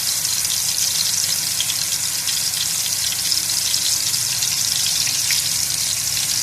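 Chapli kabab frying in hot oil on a flat tava griddle, giving a steady, loud, close sizzle with dense crackle that continues unbroken throughout, no voices.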